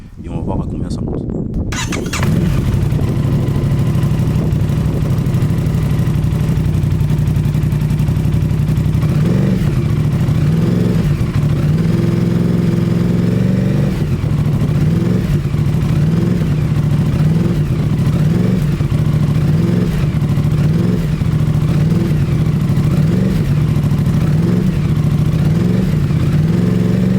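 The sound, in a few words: RS660 motorcycle with IXRACE exhaust revving at 2625 rpm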